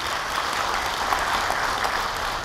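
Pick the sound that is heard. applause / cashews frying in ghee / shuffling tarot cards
applause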